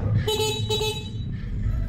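Horn of a Yadea electric bike beeping twice in short bursts at close range, set against steady background noise and a faint voice.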